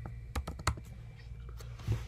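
Typing on a computer keyboard, a handful of close, irregular key clicks and taps spread across two seconds, fairly quiet and without voices.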